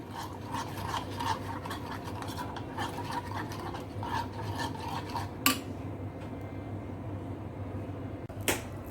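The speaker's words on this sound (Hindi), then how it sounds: "और अब आप इसको मिक्स कर लोगे।" Black pepper, paprika, tandoori masala, salt, lemon juice and oil being mixed into a spice marinade, heard as continuous close rubbing and scraping strokes with two sharp clinks, without any talk.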